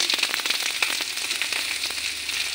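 Chopped tomato hits frying onion and garlic in a pan, a dense crackling sizzle with rapid spitting pops, close and steady for a couple of seconds with no voices.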